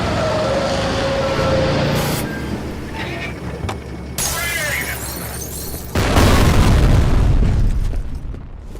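A grenade blasts in the shooter game F.E.A.R., a booming explosion among other loud in-game noise, with a heavy roar swelling near the end.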